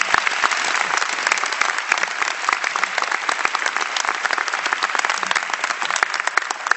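Steady, dense applause from a large audience at a LaGuardia Community College commencement ceremony, a continuous wash of many hands clapping without a break, heard from a distance through the hall.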